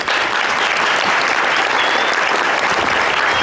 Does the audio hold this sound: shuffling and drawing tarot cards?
no